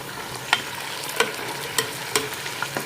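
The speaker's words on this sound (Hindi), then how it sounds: "मैंने चिकन को ऐड कर दिया है। चिकन को 2 से 3 मिनट के लिए फ्राई कर लेंगे" Chicken frying in a pan, a soft steady sizzle with about five sharp spatula scrapes spaced roughly half a second apart.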